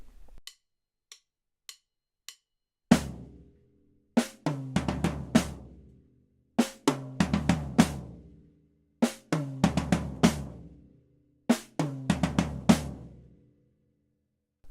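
A drum kit plays alone, starting with sparse light taps, then settling into a steady groove of kick, snare and cymbal hits in repeating phrases.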